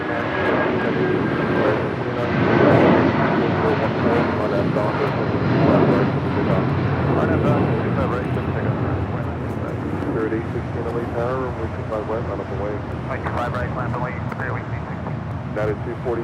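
An American Airlines jet lands on runway 25 left at Los Angeles International Airport, its steady loud engine roar running the full sixteen seconds beneath air traffic control radio chatter.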